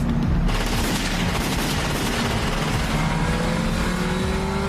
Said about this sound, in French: Les fameuses fusillades en voiture sont nées.